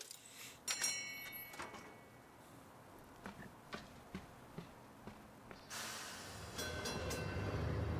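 Train in the puzzle game Gorogoa: a soft bell chime, then a run of evenly spaced clacks like wheels on rail joints, ending in a broad rushing rumble of a passing train, all fairly quiet with no voices.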